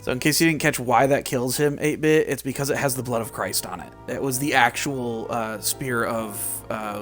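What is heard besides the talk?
None of the usual background noises is heard.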